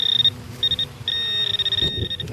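A metal detector resting on the ground emits a steady high electronic beep in several bursts, first short and broken, then a long sustained tone, with faint rustling and handling noise underneath.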